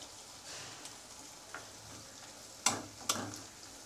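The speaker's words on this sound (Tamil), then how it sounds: "ஸோ அதுவரையும் நல்லா வதக்கிக்கோங்க" Onions sauté in a pan for chow chow paal kootu, with a soft, steady sizzle and a few spoon scrapes and taps, the last two louder and close.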